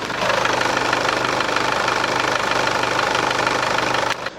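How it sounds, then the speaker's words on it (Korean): A Chevrolet Captiva diesel engine with about 190,000 km on it idles with the engine bay open, a steady, close, rhythmic diesel clatter that runs evenly and then cuts off abruptly near the end. "엔진룸 열어놨고요 엔진 소리 한번 들어볼게요"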